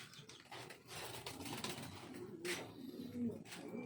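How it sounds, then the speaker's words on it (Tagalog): Pigeons coo softly in a breeding loft, several low rolling calls overlapping at moderate distance, with faint background movement and occasional wing rustle. "Marami tayong stock na ibon dito."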